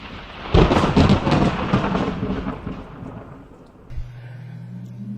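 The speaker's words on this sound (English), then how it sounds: "spine-severing 80-megaton thunderclap" A loud thunderclap in a thunderstorm rips in close, then rolls and rumbles away over a few seconds, with rain and a low hum beneath.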